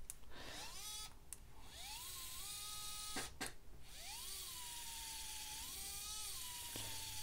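A MINI ES121 smart electric screwdriver running at its first power level, a close whirring motor whine that rises and holds in several bursts with short pauses and clicks between them, no voices.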